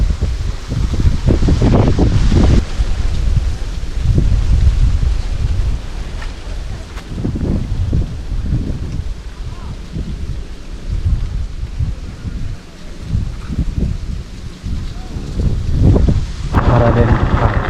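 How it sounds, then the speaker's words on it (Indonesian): Strong wind buffets the microphone on a hilltop above a cliff, in loud, rough gusts that rise and fall, with voices talking under it. "Anginnya lumayan cukup besar teman-teman ya di atas bukit ini"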